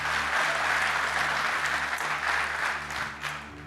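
Congregation at a church service applauding together, a dense, steady wash of clapping that stays loud throughout and eases slightly toward the end, with no voices standing out.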